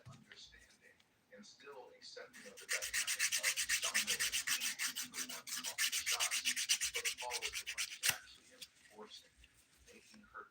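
A hand-held nail file rasps back and forth over dip powder nails in quick, even strokes, close and crisp, after a few softer scrapes; a voice speaks near the start.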